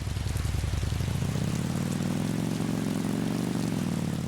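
A motorcycle in the Roblox game Bloxburg gives off a steady, buzzy engine drone whose pitch climbs as it speeds up and then holds level, heard alone without talk.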